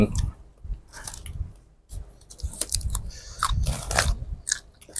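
People eat rice close to the microphone, with irregular moist chewing and crunchy bites in bursts, and occasional voices in the background.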